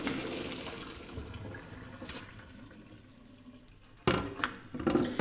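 Hot water drains from a pot of boiled edamame into a sink, a steady sloshing pour with a louder burst of splashing near the end.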